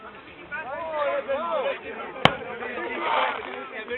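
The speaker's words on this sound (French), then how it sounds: "Gros pétard." A single large firecracker bangs sharply and loudly among fireworks on a stormy night, one abrupt blast standing out over people chatting nearby.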